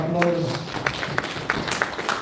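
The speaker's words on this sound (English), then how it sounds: "Another round of applause" Audience at a Uganda National Examinations Board event clapping for the chief guest, a sparse, fading round of applause with a few distinct louder claps standing out.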